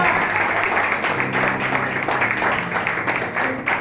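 An audience claps together during a spiritual talk, a dense, steady patter of hands with a voice speaking over it at moderate volume.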